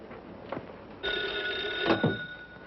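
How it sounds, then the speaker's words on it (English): An old-fashioned telephone bell rings in a 1951 radio crime drama, a sustained metallic ring after a couple of soft knocks, moderately near and heard alone without talk. "Excuse me, I'll have to get the phone."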